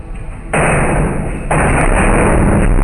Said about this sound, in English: a series of super loud bangs on the wall are heard